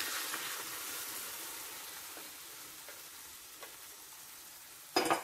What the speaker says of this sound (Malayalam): ഇനി ഇതിലേക്ക് നമ്മൾ വേവിച്ചു വെച്ചിരിക്കുന്ന ചിക്കൻ ചേർത്തു